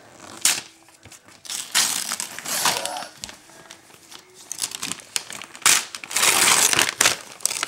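A child unwraps a gift by tearing and crumpling wrapping paper, producing bursts of crinkling and ripping close by. The noises come in irregular clusters with short pauses between them.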